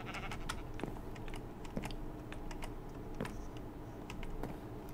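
Sheep in the Minecraft video game give a few faint, scattered bleats over soft clicking, like keyboard taps, in a quiet room.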